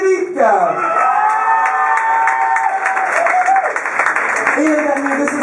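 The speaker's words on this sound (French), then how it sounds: "je vous demande de les applaudir bien fort" Audience at a bar's mister election night in Liège clapping and whooping loudly, the steady applause overlaid by shouts and a voice talking through the noise.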